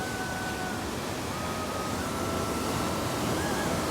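A deep stream and waterfall flowing in the Nuwakot hills: a steady, dense rush of water that stays loud and unbroken throughout, with no voices.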